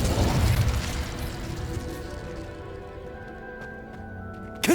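In Hogwarts Legacy an Incendio fire spell erupts in a loud burst that fades into a long, dwindling roar and crackle. A brief sharp hit sounds near the end.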